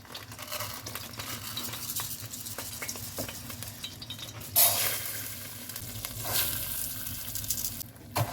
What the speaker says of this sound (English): Now I'm going to stir this around till the rice is browned